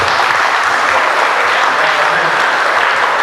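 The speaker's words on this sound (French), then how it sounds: "Donc, applaudissons-les, s'il vous plaît." A crowd at an outdoor national holiday celebration in Saint-Calixte applauds steadily, a dense, loud wash of clapping that holds evenly throughout.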